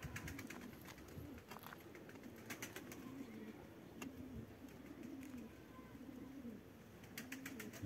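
Collared doves coo in repeated low, rhythmic phrases close by, several birds overlapping against faint background noise with occasional sharp clicks and rustles.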